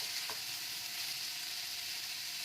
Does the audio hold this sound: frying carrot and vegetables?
yes